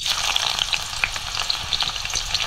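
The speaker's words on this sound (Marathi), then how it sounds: "तेल तापलं, ह्यात टाकूया लसूण" Crushed garlic sizzles in hot oil in a kadai. A steady, close frying hiss is broken by small crackles and pops, with no voices.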